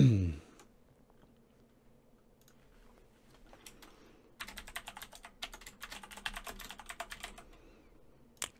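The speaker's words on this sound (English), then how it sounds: "Clicky keyboard. Clicky keyboard." Rapid clatter of typing on a clicky computer keyboard, sparse taps at first and then a dense burst of keystrokes, close and fairly quiet.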